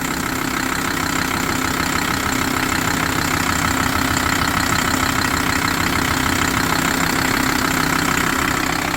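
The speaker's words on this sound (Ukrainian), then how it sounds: "Заведений двигун" A minibus diesel engine idles steadily close by at a car market, a rough, knocking rumble that holds an even, unbroken rhythm throughout.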